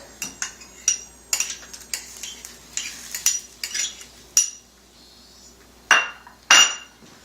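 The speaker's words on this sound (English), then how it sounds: "I'm going to pour it in, stir it up a little." A spoon clinks and scrapes against a pot as chicken stock is stirred in, with irregular metallic taps and a few louder knocks. The sounds come close and clear, with short quiet pauses between strokes.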